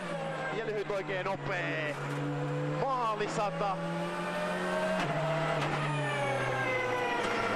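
A rally car on the final corners of a Tour de Corse special stage roars past, its engine revving hard and dropping through gear changes with squealing tyres, while a commentator talks excitedly over it.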